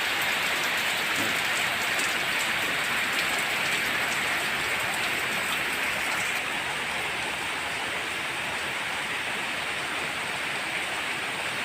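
Morning rain falls steadily in Khon Kaen, around potted and hanging plants, making a dense, even hiss of drops on surfaces. The sound is close and constant, with no voices.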